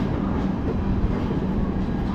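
Passenger train on Indian Railways heard from inside, a steady loud rolling rumble with rattling carriage noise and faint rhythmic wheel clatter throughout, no voices.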